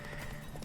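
Hooves of a horse galloping during a horse race in the video game The Witcher 3 thud in a quick steady rhythm, close and clear for a brief moment with no talking.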